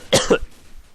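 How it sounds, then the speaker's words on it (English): A single harsh cough comes in two quick bursts, close and loud, followed by quiet. "not really sick, just a bad cough now"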